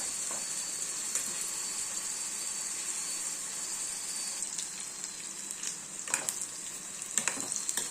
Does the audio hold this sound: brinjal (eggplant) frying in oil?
yes